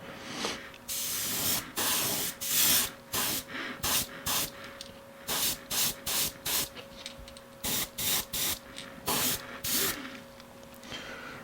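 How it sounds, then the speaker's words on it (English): Airbrush spraying paint onto a fishing lure, a series of short hissing bursts in an uneven rhythm, close and fairly loud, with a steady compressor-like hum underneath. "I always like to hold the airbrush a little bit further away from the bait"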